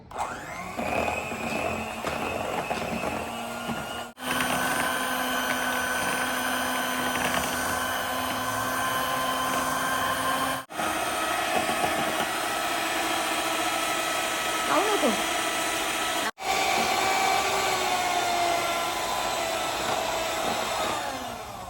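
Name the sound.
electric mixer mixing cake batter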